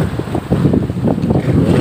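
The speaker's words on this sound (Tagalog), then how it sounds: "Grabe. Ang alon lalaki." Big sea waves slosh and wash around a fishing boat off Occidental Mindoro, with steady low rumbling water and wind buffeting the microphone throughout, no voices.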